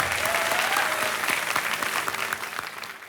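Studio audience at a quiz show applauding a contestant's partner, a dense, steady burst of many hands clapping close and loud throughout, with no talk over it.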